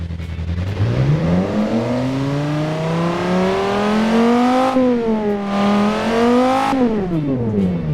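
A low-tech sports car engine in the Automation game revs steadily upward alone, its harmonic drone climbing, dipping briefly, then rising again, with a fairly limited top end.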